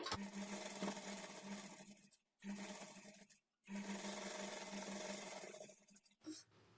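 A sewing machine runs in three steady, fairly quiet bursts separated by brief pauses as it stitches the front part of a blouse.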